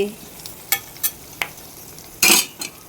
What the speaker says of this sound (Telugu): చిటపటలు ఆడిన తర్వాత శనగపప్పు, అలాగే పల్లీలు ఇవన్నీ వేసేసుకుని వేయించుకోవాలండి